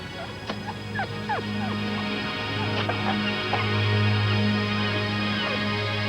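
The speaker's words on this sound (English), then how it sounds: "He's down there, though. You can hear him crying." A puppy trapped down a sewer drain pipe gives a series of high, thin whimpers and yips, sounding muffled and a bit distant, against a steady low hum.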